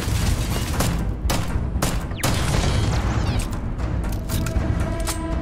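A weapon in Starfield fires rapid bursts of loud, sharp shots with short gaps between volleys. Reverberant booms and mechanical clatter fill the space between them.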